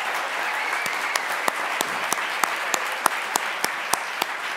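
Steady audience applause fills a graduation ceremony hall, a dense even wash of clapping with a few sharper individual claps popping out at regular intervals.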